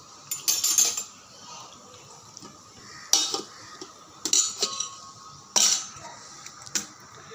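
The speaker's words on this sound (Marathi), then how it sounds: "छान हलवून घेतलं आहे एकदम सिंपल पास्ता आहे लहान मुलांसाठी टमॅटो सॉस आणि मॅगी मसाला" Simple pasta in tomato sauce with Maggi masala and Maggi sauce being stirred in a pot: a handful of short, sharp scrapes and clinks of a spoon against metal, separated by quiet pauses, with no talking.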